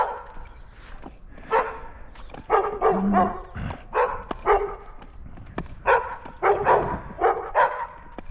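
Dogs bark in repeated bursts on a snowy, icy street in Gainesville, Texas, several barks in quick succession followed by pauses, fairly close and loud, with a low rumble underneath.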